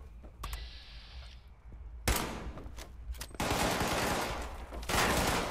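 Gunfire in Fallout 76: sharp single shots early, then bursts of rapid automatic fire that build into a sustained loud barrage, close and aggressive, with no talk.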